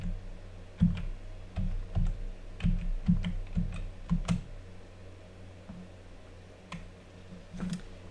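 Keys clack on a computer keyboard as a download code is entered, a run of quick close taps in uneven bursts over about five seconds, then a pause and a couple of final presses, with no talking.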